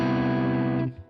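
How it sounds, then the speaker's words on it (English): An electric guitar played through a Fender Tone Master Pro amp cranked into natural tube overdrive rings out as a thick, distorted sustained chord, then is cut off abruptly near the end. "if I crank this, I'm going to be pushing these tubes and getting a lot of natural overdrive."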